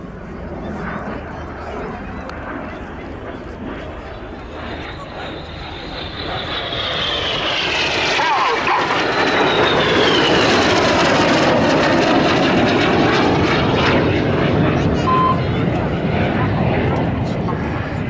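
Red Arrows jets performing a flying display at RAF Cosford Air Show, a loud roaring jet engine rising and sweeping past overhead, sustained throughout with a voice speaking over it.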